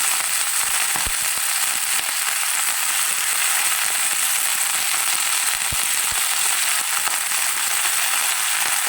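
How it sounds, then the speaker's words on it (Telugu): Fenugreek leaves frying in oil for methi chutney give a steady, loud sizzling hiss with a few sharp pops, close up and without talk. "కొంచెం పచ్చి వాసన పోయేంత వరకు ఫ్రై చేసుకోవాలి."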